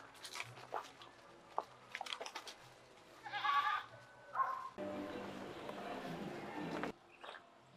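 A goat gives one faint bleat among scattered rustling, thuds and quiet voices on a Jamaican hillside, followed by a stretch of steady hissing noise.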